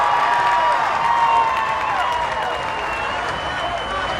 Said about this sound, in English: Hey, listen into the fans as she backs out here.